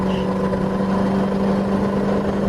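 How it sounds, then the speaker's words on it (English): A 1995 Fleetwood Storm Class A motorhome with a leaky exhaust manifold drones at full throttle on the road, a steady, loud low rumble with no breaks. "I'm going to give it full throttle so you can hear the exhaust."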